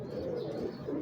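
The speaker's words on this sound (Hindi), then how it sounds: "शेखुपुरिया कबूतर है ये।" A Sheikhupuri pigeon coos up close, one soft, throaty, rolling call that holds steady for about a second.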